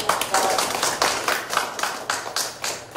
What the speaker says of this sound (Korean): 박수 주십시오.